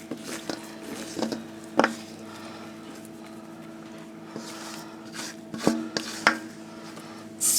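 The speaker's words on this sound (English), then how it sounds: "Then we're going to turn our batter right in here." Cranberry sauce quick bread batter goes from a bowl into a regular-size loaf pan, with soft wet plops and squishes, spoon scrapes and taps against the bowl in scattered bursts over a quiet kitchen hum.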